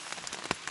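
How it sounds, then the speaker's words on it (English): Rain pattering steadily on surfaces at a trail shelter along the Appalachian Trail, a dense close wash of drops with a few sharper splashes, no talking. "it started pouring rain, and it hasn't stopped raining since"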